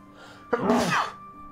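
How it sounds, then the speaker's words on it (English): A single loud sneeze bursts out close by, a sharp intake followed by a noisy, breathy release against quiet surroundings. "I'm gonna sneeze."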